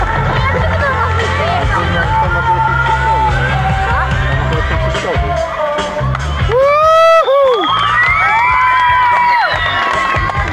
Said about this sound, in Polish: Brawa, moi drodzy.